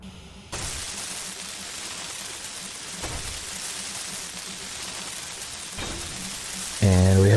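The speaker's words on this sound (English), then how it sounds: "It's raining now, too." Steady, loud rain hisses in the Space Engineers survival video game. It starts abruptly and runs unbroken, with a brief surge in the middle and a sharp tonal burst right at the end.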